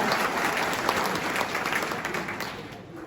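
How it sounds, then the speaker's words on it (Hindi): An audience at a state-level office-bearers' conference claps to welcome a guest, loud dense applause that begins at full strength and tapers slightly toward the end, with faint voices mixed in. "ताली बजा के स्वागत करें इनका"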